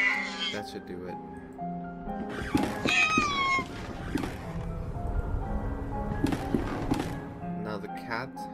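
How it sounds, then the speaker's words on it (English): A cat meows inside the video game The Last Door, with a short rising-falling call standing out midway over a bed of game music and ambient noise. "Now the cat should come."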